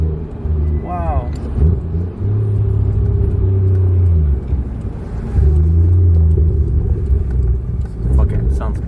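A Toyota Supra MK3 with a 1JZ VVTI engine burbles at low idle, a loud deep rumble with rising revs that swell and fall, up close with voices talking over it.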